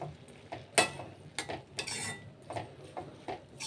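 Drumstick leaf dal being stirred in a metal pot, quiet irregular scraping and clinking of a spoon against the pot, one sharper knock near the start, no talking.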